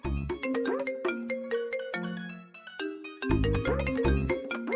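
A melodic phone ringtone plays a bright, repeating tune loudly and clearly, with no voices over it.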